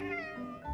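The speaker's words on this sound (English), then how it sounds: "often when cats meow at us, we will meow back" A single drawn-out meow from a cat, close and fairly quiet, with a steady harmonic tone that dips slightly before the end.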